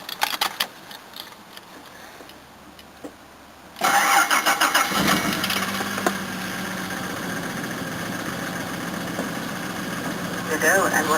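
A Jaguar XJ6 with a 4.2-litre six-cylinder engine and a broken drive plate cranks and catches, then settles into a steady, slightly rough idle, loud and close, with a person talking faintly before it starts.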